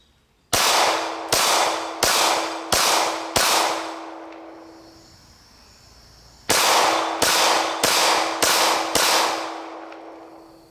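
Syntech Defense 9mm pistol rounds fired outdoors in two strings of five sharp, loud shots, the first string evenly paced, the second quicker, with ringing decay after each string and a quiet pause between.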